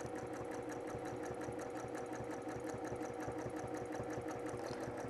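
Sewing machine stitching steadily while machine quilting a fabric panel, a fast even mechanical chatter of needle strokes repeating close up and loud, with no voices.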